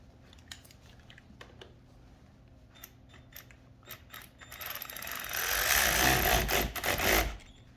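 A wrench works a car battery terminal nut on an Infiniti QX60, first as scattered faint clicks and taps, then as a louder, steady ratcheting rasp lasting a couple of seconds near the end.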